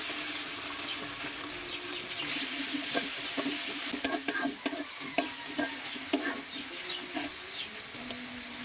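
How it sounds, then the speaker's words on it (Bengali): Onion and ginger-garlic paste frying in oil while being stirred, a low steady sizzle broken midway by a run of sharp scraping clicks from the spoon against the pan. "বাটা মশলাটা পেঁয়াজের সাথে ভালোভাবে মিশিয়ে নিয়ে"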